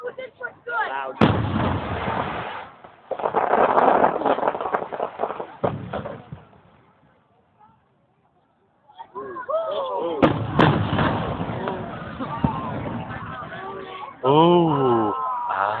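Fourth of July fireworks over Clearwater Beach, Florida, in 2007 boom and crackle in dense, loud volleys, then a lull of near silence before another barrage, with crowd voices and talk mixed in.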